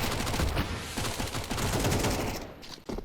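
Rapid automatic AK rifle fire in a Counter-Strike match on the Inferno map, a dense loud burst of overlapping shots running almost continuously before cutting off near the end.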